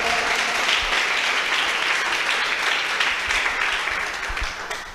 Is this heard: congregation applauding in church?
yes